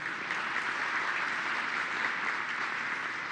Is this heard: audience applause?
yes